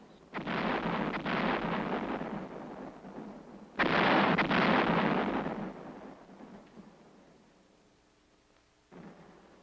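An artillery barrage pounds enemy hill positions in the Korean War, with heavy booming blasts, each rolling on for seconds and fading away, followed by another sharp blast near the end, with no voices.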